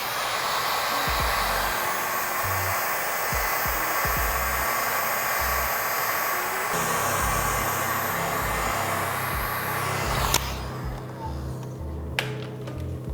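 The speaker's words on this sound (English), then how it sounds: "You're gonna grab your heat gun on the highest setting once again" A heat gun on its highest setting blows a loud, steady roar while heating the edges of paint protection film on a car hood, with a few faint knocks and a quieter stretch near the end.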